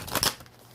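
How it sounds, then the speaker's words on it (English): A tarot card deck gets a quick final shuffle and cut, a brief papery riffle that fades to quiet within a second. "One more shuffle, and we're going to cut the deck."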